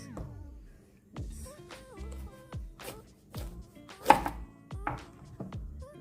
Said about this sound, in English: I'm going to be cutting these up small and just little pieces.